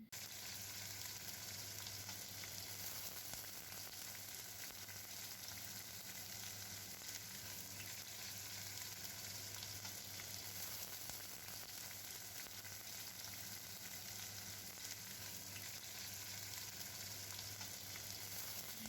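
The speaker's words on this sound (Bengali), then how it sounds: "এরপর পেঁয়াজ কুচি দিয়ে ভাজতে ভাজতে লাল হয়ে এলে" Chopped onion fries in a pan for a fish-roe dish, a quiet, even sizzle that runs unbroken from start to finish with no talking.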